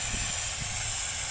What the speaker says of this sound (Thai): ปั๊มลม